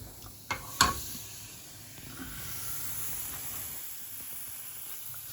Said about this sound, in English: we put the butter in the pan